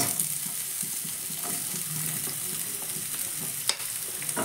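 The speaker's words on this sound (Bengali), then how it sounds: "তেলটা আবার গরম হয়ে গেছে, সবার প্রথমে দিয়ে দিচ্ছি আমি কোচানো পেঁয়াজ" Chopped onion hitting hot oil in a frying pan, giving a steady close sizzle with scraping stirs and one sharp click near the end; no voices.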